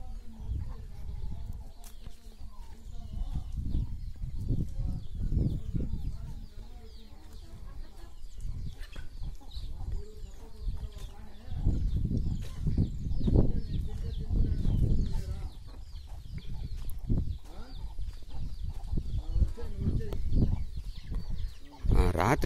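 Chickens cluck in a farm enclosure fenced with iron wire mesh and planted with fruit trees, bursts of clucking and calls rising and falling in clusters over quiet background.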